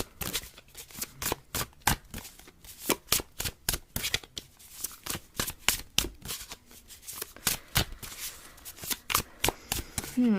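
Tarot cards shuffled by hand during a pick-a-card reading, a rapid run of crisp riffling slaps that repeats steadily and close up, with no talking.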